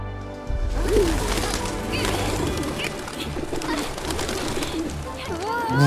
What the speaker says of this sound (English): Real pigeons.